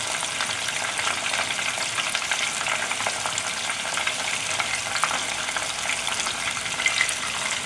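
Shrimp sizzle and fry steadily in a hot pan for honey walnut shrimp, a dense, even crackle close up with no voices over it.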